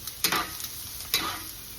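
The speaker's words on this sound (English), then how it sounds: "So we're sauteing this" Ingredients for a Bolognese ragu sauté in a pan under a steady sizzle, with two sharp bursts of spatula scraping and stirring close by.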